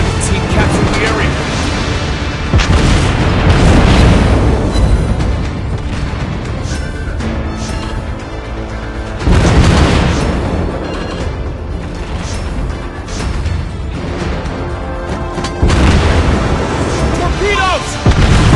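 Naval battle in World of Warships Blitz, with loud, continuous heavy gun salvos and booming explosions rolling in waves, while in-game announcer voice callouts sound over the din.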